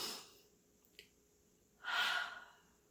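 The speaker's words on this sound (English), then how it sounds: "Let's just take a deep breath." A single deep breath drawn in, soft and close, swelling and fading over about a second after a faint click, with no talk.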